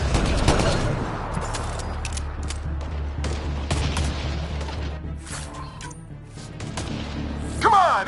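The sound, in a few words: enemy gunfire in a video game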